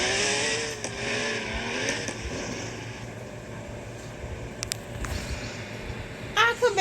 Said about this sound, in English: I want to hear this car sound, guys. I'm going to 993 Chevy and pop out.